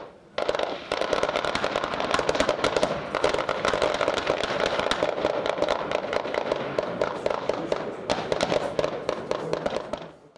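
Heavy gunfire crackles continuously for several seconds, many overlapping rapid shots from multiple service weapons in a live-fire military exercise, loud and dense with no pause.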